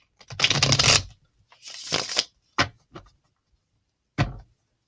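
A few short bursts of tarot cards being shuffled, with brief rustling riffles and soft taps between quiet pauses.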